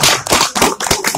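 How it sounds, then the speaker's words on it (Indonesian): Audience at a halal bihalal gathering claps loudly and close, a burst of sharp overlapping hand claps filling the short moment without any voice. "Tepuk tangan dulu buat"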